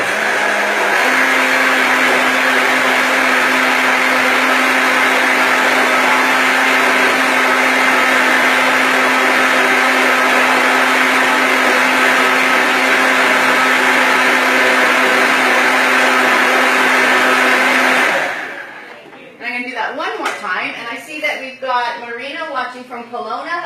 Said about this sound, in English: I'm going to go ahead and put it back on the blender